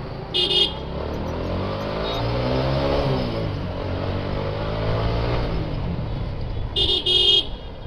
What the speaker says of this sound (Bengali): এই গাড়িটার সাউন্ড যা মজা লাগে RTR-এর, দারুণ।